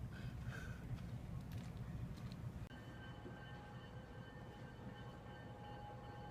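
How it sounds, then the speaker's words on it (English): A small Oaks Park trolley runs along railroad tracks beside the Oaks Bottom wildlife refuge, making a steady, close rumble and rattle with faint high squealing tones in the later part. No one speaks. "That's the little trolley that goes up and down those railroad tracks, the Oaks Park trolley."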